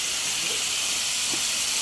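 Butter melting in a hot pan gives a steady, even sizzling hiss that holds without a break, close and moderately loud.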